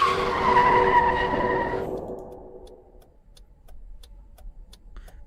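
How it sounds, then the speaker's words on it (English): Tires screech loudly as a car skids to a stop on a foggy road in Novena Diabolos, a sustained squeal that cuts off sharply and leaves faint ticking and quiet ambience. "The car comes to a stop just in time."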